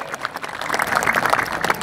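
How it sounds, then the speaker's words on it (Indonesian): An audience at a Pemuda Pancasila Banyumas gathering breaks into applause, a short, dense burst of many hands clapping together at a steady, fairly loud level. "Tepuk tangan buat beliau."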